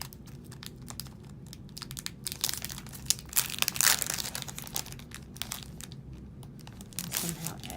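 A plastic pocket folder is pulled out of a Happy Planner Mini Socialite planner set, giving close, uneven plastic crinkling and rustling that swells in the middle, with light handling noises throughout.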